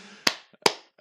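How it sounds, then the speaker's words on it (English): Two sharp claps ring out in a quiet home flat, spaced about a second apart, each followed by a brief room echo, with a faint softer tap between them as podcast hosts applaud by themselves. "More clapping by ourselves in our flat."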